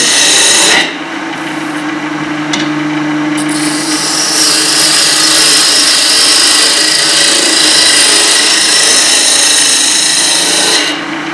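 Woodturning tool cutting a spinning piece of wood on a lathe, a loud, steady, close scraping hiss that holds for about ten seconds, with the motor humming underneath and no voices.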